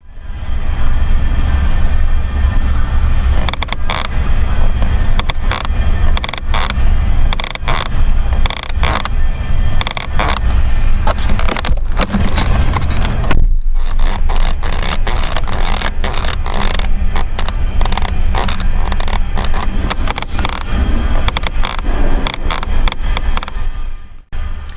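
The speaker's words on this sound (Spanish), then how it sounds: "Yo he llegado a pensar que este ruido es porque a este coche le han dado un golpe en la puerta" A door panel in a 2018 Toyota Yaris Hybrid rattles while the car is driving. Dense, irregular clicks and knocks sit over loud, constant road rumble and carry on throughout.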